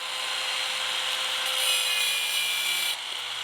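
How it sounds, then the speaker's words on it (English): A 3/4 inch steel drill bit has the base of its shaft cut off with a steady, bright, hissing cut that runs nonstop at close range, then eases slightly near the end. "I used a 3/4 inch drill bit and cut off the base of the shaft."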